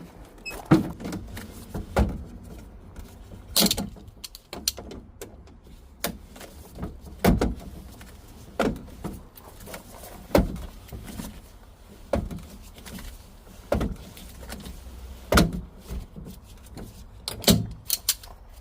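Work on the driver's side outside door handle of a Chevy Express van in a wrecking yard, with a series of irregular metallic clunks, taps and rattles spread across a quiet background.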